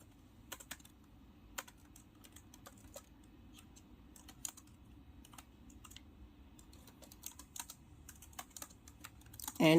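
Java code being typed on a computer keyboard in a quiet room, with a steady run of light, irregular keystrokes and occasional louder key hits across the whole stretch.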